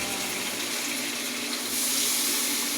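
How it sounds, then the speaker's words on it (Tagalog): Water pours steadily into a cooking pot, a continuous close splashing rush that swells slightly louder toward the end, with no voices. "Lagyan ng konting Tubig."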